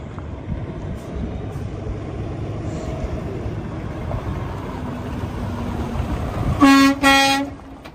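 A 2015 Peterbilt 579 day cab truck gives one loud, sustained horn blast near the end, rising clearly above a low, steady background rumble.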